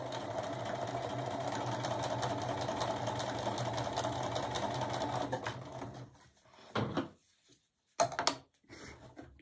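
A sewing machine stitching fabric runs fast and steady at close range with a dense mechanical whir, then slows to a few short bursts and stops.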